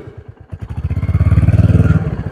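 Motorcycle engine running during a ride, a loud rhythmic thumping exhaust pulse that starts slow, then picks up and steadies into a fast chugging beat, close up and without talk.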